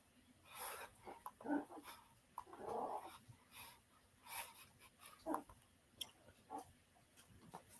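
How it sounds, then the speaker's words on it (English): Faint high whimpers and soft cries from puppies come in short scattered bursts over a quiet background, with occasional snuffling and low growly noises. "those puppies be sounding just like babies"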